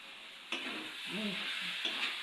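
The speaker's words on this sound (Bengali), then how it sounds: "এইভাবে সব মশলাপাতি দিয়ে আরও বেশ কিছুক্ষণ নাড়িয়ে নেওয়া হবে" Banana flower curry cooks in a pan with ground cumin, coriander and red chili powder, a soft sizzle under a few scraping stirs and clinks, near and steady.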